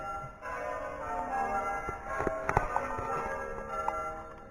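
Church bells ring at night with sustained, overlapping tones, a few sharper strikes and clicks standing out over the ongoing ringing.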